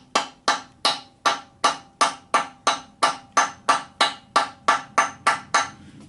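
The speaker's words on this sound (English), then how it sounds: "light taps with this copper hammer" A copper hammer taps excavator bushings on a Bobcat 331 mini excavator: about seventeen light, crisp metallic knocks in a brisk, even rhythm, each ringing briefly, close and with no talk.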